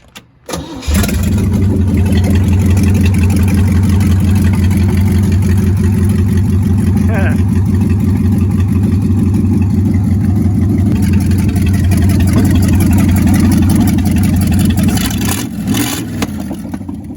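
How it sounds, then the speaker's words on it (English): A loud, raw Jeep CJ3B engine starts and runs steadily with its exhaust removed, venting straight from the heads, a harsh unmuffled rumble that holds for many seconds before easing slightly at the end. "I had to lob the exhaust off so it's coming straight out of the heads"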